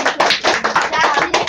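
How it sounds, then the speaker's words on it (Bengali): A short burst of people clapping hands in a room, uneven and closely spaced, loud and near for under two seconds. "বা হাততালি দাও"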